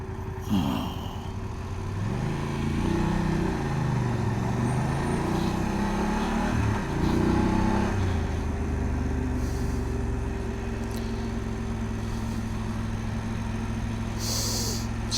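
A new BMW 850 GS motorbike in bumblebee colours is ridden along a road, its engine giving a steady, moderately loud drone that shifts in pitch through the ride, with wind noise.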